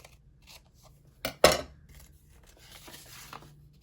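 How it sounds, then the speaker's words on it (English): Scissors trimming paper for a pirate-themed journal page: a couple of quick, close snips in a quiet room, then faint rustling. "And now I can trim this right off."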